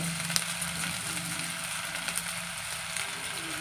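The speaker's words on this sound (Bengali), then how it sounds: "তো এখন আমি সুজিটা ঘেমে নিচ্ছি" Semolina roasting in a spoonful of ghee in a pan for sitabhog sweets, a soft continuous sizzle with faint crackles and occasional light scraping, close and fairly quiet.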